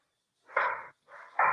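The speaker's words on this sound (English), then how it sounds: "dog's barking" A dog barks twice nearby during a call, two short sharp yaps separated by a brief pause, with no talk over them.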